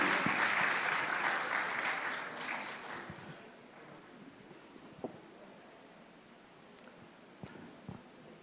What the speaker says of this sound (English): So let's give round of applause to Professor Tiziana Rossetto.